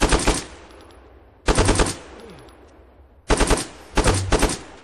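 AK rifle fire in the ArmA 3 video game: three loud, close bursts of rapid automatic shots, each about half a second long, separated by short pauses, with no voices.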